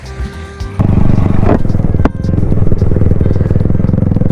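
A Yamaha R15 V4 motorcycle with a loud aftermarket exhaust revs close by. After a brief quieter start, a throaty, continuous engine roar takes over, broken by one sharp blip partway through, with no talking.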